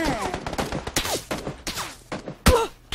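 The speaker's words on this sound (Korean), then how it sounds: "맞은편에서 계속 쏴." Gunfire in the battle royale game PUBG from across the map, several sharp shots and short bursts mixed with players talking excitedly over them.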